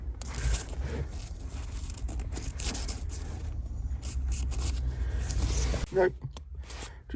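A paper receipt is handled inside a Peugeot 309, with close crinkling, scraping and tearing rustles coming in irregular bursts while a voice talks intermittently.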